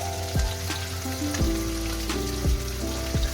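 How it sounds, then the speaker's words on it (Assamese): A pot of curry with leucas and fish bubbling at a boil, with steady sizzling and bubbling broken by a few utensil clinks and knocks against the pot, close up and without talking. "এইফালে তৰকাৰীখন ধুনীয়াকৈ উতল আহিছে।"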